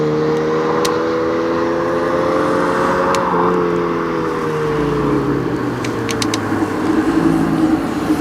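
A Mazda MX-5 on a sprint course powers out of a corner, its engine note rising steadily in pitch as it accelerates, loud and close throughout with a brief gear-change dip midway.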